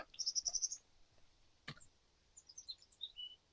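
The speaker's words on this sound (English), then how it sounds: "Mountain chickadee, I think." A few faint, high mountain chickadee calls and twittering notes, thin and distant against a quiet background, with a soft click midway.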